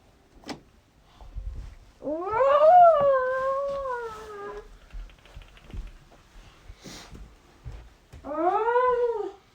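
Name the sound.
child imitating a roar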